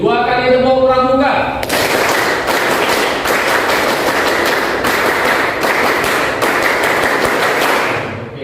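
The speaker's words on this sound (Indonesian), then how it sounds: "2 kali tepuk pramuka" A group of students does a Pramuka scout clap in a school setting, many hands beating out rapid rhythmic bursts of claps after a chanted voice, loud and close, with brief pauses between the clap patterns.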